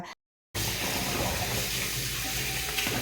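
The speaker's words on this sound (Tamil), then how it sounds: "இப்போ நான் அழகுற டம்ளரில் அஞ்சு டம்ளர் அழகுந்துக்கிறேன் நல்லா கழுவிக்கிறேன்" Raw rice is washed by hand in water for murukku, with a steady splashing, sloshing rush close by after a brief silent gap at the start.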